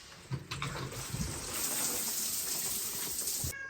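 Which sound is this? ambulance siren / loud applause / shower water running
shower water running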